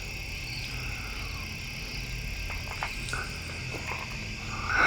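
A dense, continuous chorus of crickets chirping on steady high tones at night in a cemetery, with faint scattered clicks and rustles underneath and no voices.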